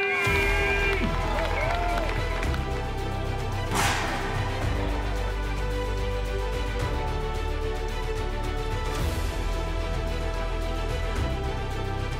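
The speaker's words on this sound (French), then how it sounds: "On les applaudit!" An outdoor crowd at the Raid international Témiscamingue event cheers and applauds continuously over music, with occasional louder shouts and bursts of whistling standing out from the steady roar.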